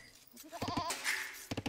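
A sheep in the Age of Empires strategy game gives a few short, quiet bleats, ending in a quick burst of three clipped calls, with no speech over them.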